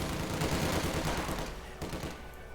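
Sustained automatic fire from an MG42 machine gun in the game Company of Heroes 2, a dense rapid burst that stays loud through most of the moment, then thins out with scattered distant shots.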